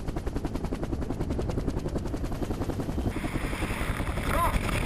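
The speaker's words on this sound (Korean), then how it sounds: "드디어 적당한 강화 지점에 멈춰선 헬기" A military helicopter hovers high above a drop point during Korean marine special forces high-altitude jump training, its rotor beating in a fast, steady, loud throb with wind rushing past. The roar thickens slightly near the end.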